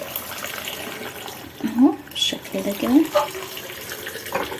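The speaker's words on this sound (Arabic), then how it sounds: "خلاص الميه بتاعتي جاهزه، هننزل بيها بقى" Prepared water pours and splashes over lemons in a bowl while someone speaks in Arabic over the trickle, with a steady background hiss.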